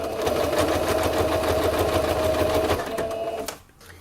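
A sewing machine runs steadily, stitching a seam on a small oral-hygiene pouch in a rapid, even mechanical chatter that stops abruptly near the end, close and loud with no voices.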